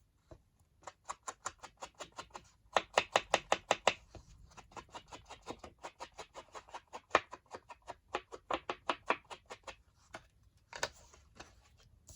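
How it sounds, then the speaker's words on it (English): Small scissors snip a tiny piece of paper for crafting, a brisk series of quiet, close, crisp cuts in uneven bursts, with short pauses between runs and no talk. "I need to trim that tiny piece"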